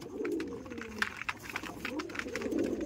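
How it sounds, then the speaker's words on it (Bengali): Chotiyal Madrasi pigeon giving repeated throaty coos, near and clear, with light rustling and clicks around it. "আপনার সামনে চটিয়াল পায়রা যেই দিয়েছি সেই ডাক"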